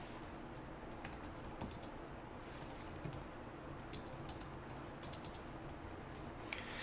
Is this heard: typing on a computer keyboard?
yes